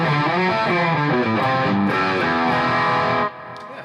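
An electric guitar plays crunchy, distorted chords through a Boss Katana Artist MkII amp, loud and continuous with a rhythmic strummed pattern before cutting off near the end.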